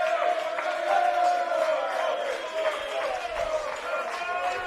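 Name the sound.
home crowd applauding a substituted football player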